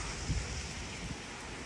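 Soft, steady rain hisses continuously during a windy storm, with a couple of faint low thumps early on.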